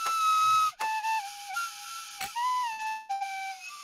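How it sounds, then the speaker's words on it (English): A flute melody, the Titanic theme, is played inside a video game: a single sustained whistle-like line with held notes and brief breaks, loud and close, with no talk over it. "play the Titanic intro with the flute."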